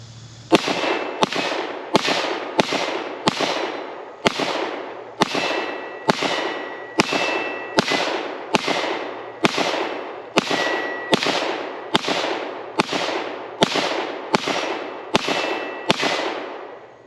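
A Keltec PR57 pistol fires a full 20-round magazine in steady succession, each loud, sharp report ringing out at a regular pace of roughly one shot every second, close to the microphone, with no talking.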